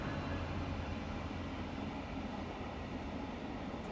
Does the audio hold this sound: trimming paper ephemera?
no